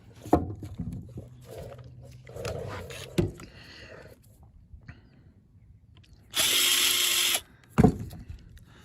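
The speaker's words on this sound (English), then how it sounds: "Now we need to take these 4 screws out." Screws being driven out of the carburetor on an Echo GT225/SRM225 trimmer with a power drill, giving a sustained whir of about a second plus shorter bursts, with clicks and handling noises between them.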